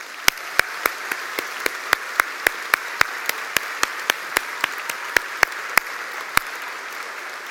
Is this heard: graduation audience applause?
yes